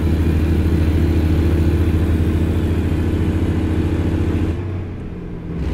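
Steady, loud diesel drone of a truck engine in American Truck Simulator, holding high revs with a strong harmonic hum before dropping off abruptly near the end as the driver shifts.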